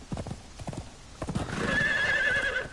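Horses at a stable in the video game Conan Exiles: a run of hollow clip-clop hoof steps, then a long, wavering neigh rising over them, close and clear.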